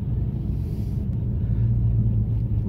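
A 2016 Dodge Challenger SRT at a dragstrip in hot weather, its engine a deep continuous rumble heard from inside the car, steady and loud with some wind buffeting.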